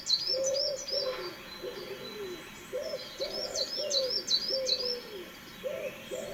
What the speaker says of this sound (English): You're going to hear the wood pigeon